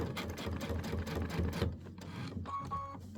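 A sewing machine stitches a tack down on dimensional fabric flowers for a wall hanging, running in a fast, even whir before pausing and giving a few short, lighter stitching bursts near the end.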